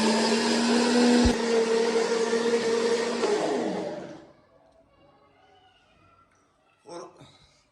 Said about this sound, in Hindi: इनको हम स्टार्ट करेंगे ग्राइंडर को